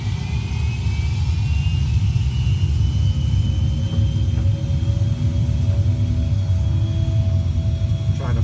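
Simulated airliner engines spool up for takeoff at Gatwick in a flight simulator, a steady loud rumble and whir with a rising high whine, continuous throughout with no talking.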